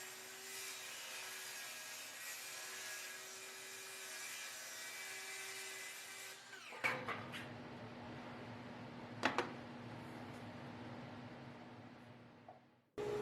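A DeWalt table saw makes diagonal cuts in wood for bin dividers: a steady motor whine with a blade-on-wood rasp runs for about six seconds, then stops, followed by quieter clunks and handling knocks.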